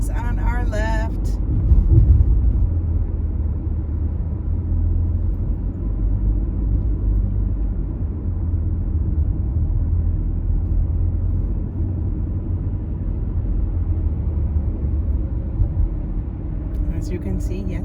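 Steady road rumble from a car driving in traffic near Disney Springs, continuous low engine and tire noise heard from inside the vehicle, with a brief clatter at the start and end.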